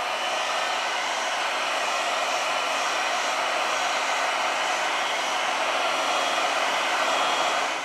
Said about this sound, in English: We apply heat to the device.